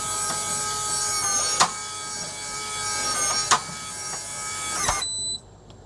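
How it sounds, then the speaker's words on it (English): SwitchBot Pro 2 smart door lock motor whirring steadily for about five seconds, a loud close mechanical grind with a few sharp knocks, then stopping abruptly and leaving a faint high whine. "the main problem with Switchbot is the noise it makes."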